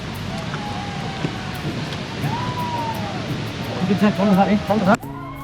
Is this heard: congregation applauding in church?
no